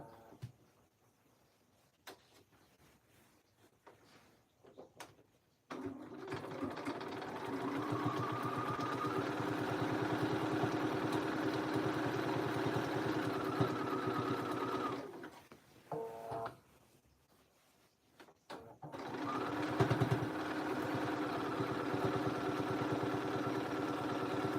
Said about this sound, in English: now we're going to just go ahead and put in our actual stitch